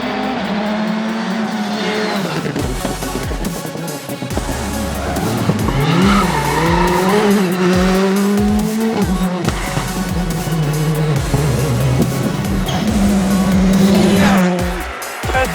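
A Citroën C3 Rally2 4WD rally car pulls away at a rally event, its engine revving hard through rising and falling gear changes with tyre squeal, loud and close, a voice faintly underneath.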